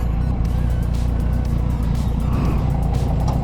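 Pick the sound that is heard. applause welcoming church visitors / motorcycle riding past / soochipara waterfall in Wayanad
motorcycle riding past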